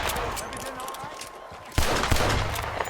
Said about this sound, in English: I'm going to keep shooting him